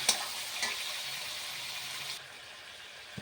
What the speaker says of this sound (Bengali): চিকেনগুলো মশলার মধ্যে দিয়ে ভালো করে একটু মিশিয়ে নেব।